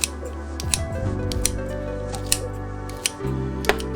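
Collard greens being cut with a knife on a board for a cornbread-and-greens meal, a few crisp slicing cuts scattered over about four seconds, close and clear with no talking.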